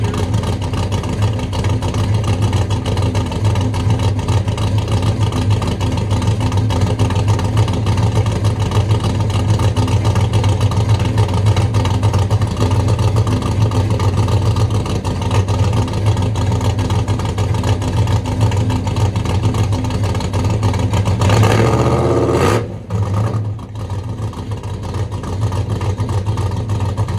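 A drag car with a newly installed intake idles loud and steady close by with a low rumbling drone for most of the stretch, then briefly cuts and dips near the end.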